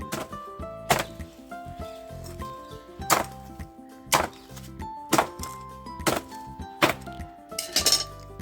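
Soaked coconut husk being chopped into chips, struck in a steady series of sharp, loud impacts about once a second, each with a brief ringing clink, alone without talk.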